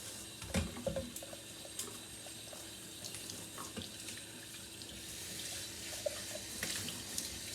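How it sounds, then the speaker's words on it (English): A cup is washed under a running kitchen tap, with a steady faint stream of water and small clinks and splashes as it is rinsed. "Let's wash this cup."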